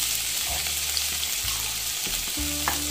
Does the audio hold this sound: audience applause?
no